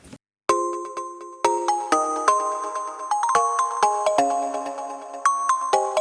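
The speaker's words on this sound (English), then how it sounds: "I found this bell, sounds like this." A bright Logic Pro X synthesized bell plays a simple melody, each struck note chiming and ringing with a shimmering decay, after a brief silent start.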